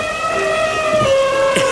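Cartoon-style rain effect of falling drops pattering steadily over sustained tonal music for under two seconds, fairly loud and even throughout.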